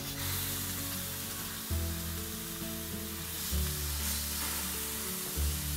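Venison burger patties sizzle steadily on a grill, a dense, continuous frying hiss with a few louder bursts as the meat settles or is moved, no voices over it.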